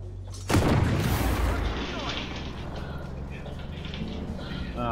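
Tank cannon fire in a video game: one heavy, loud boom that rolls off into a long fading rumble, with a player talking over the tail of the blast.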